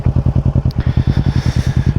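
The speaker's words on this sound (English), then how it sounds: "Ooh, the Yoshimura exhaust without the DB killer sounds" A motorcycle with a Yoshimura exhaust and the dB killer removed idles close by, giving a loud, steady, fast-pulsing thump that repeats evenly for the whole stretch.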